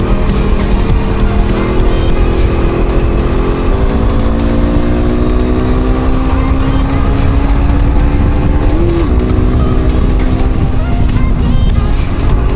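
KTM RC250 single-cylinder motorcycle of about 31 horsepower, heard while riding: a loud, continuous engine drone that rises through gears, with pitch climbing, a brief shift around mid-ride, then pulling on steadily under wind noise.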